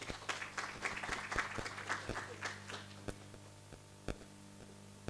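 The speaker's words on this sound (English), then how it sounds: "let's give the doctor and prof a round of applause" Applause at a research colloquium comes as scattered, uneven claps from a small audience, louder at first and then thinning out to a few isolated hand claps.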